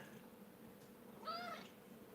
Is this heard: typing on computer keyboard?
no